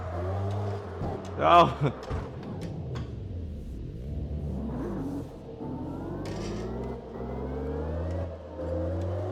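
A car engine in a racing video game played on a Moza R5 wheel revs and shifts through rising and falling gear sweeps, with a man's brief exclamation and talk over it.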